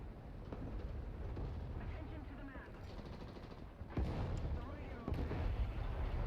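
Machine gun and artillery fire in a video game battle: a faint, steady rattle of gunfire under a voice, broken by two louder booming blasts near the end.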